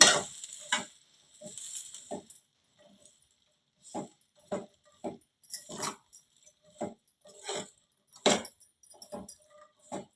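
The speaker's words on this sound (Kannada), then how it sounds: "ಈಗ ಒಂದು ಐದು ನಿಮಿಷ ಅಷ್ಟ ಕುದಿಸ್ಕೊತೀನಿ" A spoon scrapes and clinks against a pot of simmering dried pigeon pea curry in short, irregular strokes, close by, with quiet pauses between them.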